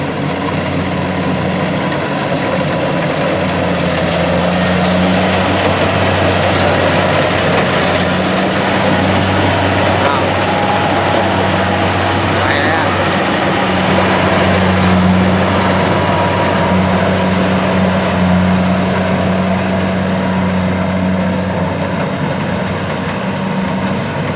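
A rice combine harvester's engine runs steadily while cutting standing rice in a field near a house, a loud, continuous low drone with a constant hum that holds unchanged from start to finish.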